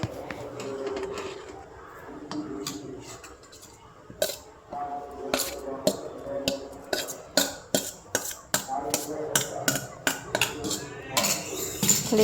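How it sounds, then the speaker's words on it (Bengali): A spoon scrapes and clinks against a cooking pan while grated carrot is stirred, a steady run of sharp metallic taps and scrapes that grows busier and more rhythmic, with quiet background sound between strokes. "গাজরটাও দিয়ে দিচ্ছি, একটু নাড়তে থাকবো।"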